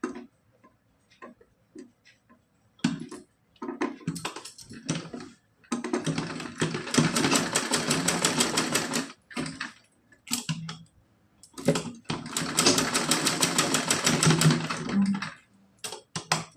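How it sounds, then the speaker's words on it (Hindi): A sewing machine stitches a Laddu Gopal cotton frock dress in two long, steady runs of rapid mechanical clatter, separated by short bursts of ticking and pauses. "यहाँ पे सिलाई लगाएंगे।"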